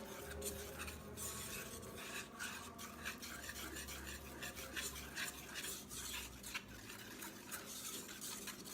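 Cheddar cheese being stirred into homemade mac and cheese, a continuous soft scraping and squelching of a spoon in a pot, close and fairly quiet with no talk.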